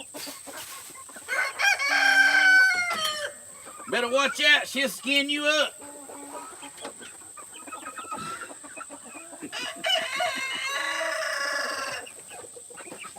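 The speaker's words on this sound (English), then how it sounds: "Welcome to the chicken headquarters." Backyard chickens in a Georgia coop, with hens clucking in bursts and a rooster crowing loudly up close, while people talk nearby.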